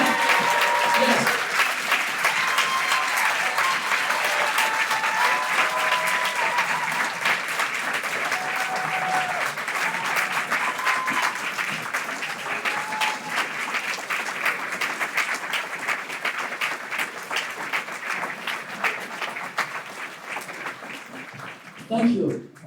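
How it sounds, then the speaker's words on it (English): A university audience at a first doctoral program celebration gives sustained applause for new PhD students, dense clapping throughout with a few cheering voices at first, gradually thinning and ending with a brief louder burst. "Can you please stand and give them a big round of applause?"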